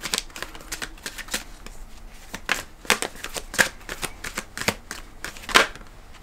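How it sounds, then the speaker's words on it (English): Tarot cards are handled and pulled from a deck, giving a run of crisp, close paper snaps and flicks spaced irregularly, fairly quiet and with no one speaking. "I'm going to pull one more card for the middle."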